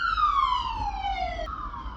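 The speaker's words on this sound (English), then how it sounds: "There was a ambulance driving past there." An ambulance siren sweeps downward in a steady wail as it drives past outside, moderately loud over a low rumble of traffic, with the pitch dropping abruptly as it passes.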